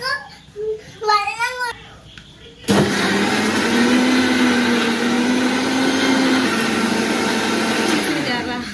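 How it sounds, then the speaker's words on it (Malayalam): A mixer grinder starts up abruptly and runs at a loud, steady whine, blending ingredients into a gel, after someone speaks briefly beforehand. "നമുക്കിത് മൊത്തം മിക്സിയുടെ ജാറിനകത്തേക്ക് ഇതാ ഇതുപോലെ അങ്ങ് ഇട്ട് കൊടുക്കാം അതിനുശേഷം നന്നായിട്ട് അടിച്ചെടുക്കാം"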